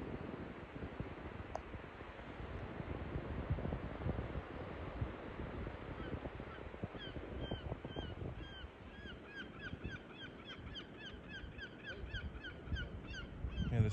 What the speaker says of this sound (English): Seagulls, herring gulls in the background.